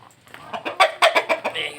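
A sick chicken with a respiratory illness makes a rapid series of raspy, wheezing clucks, about six rhythmic bursts, close and fairly loud.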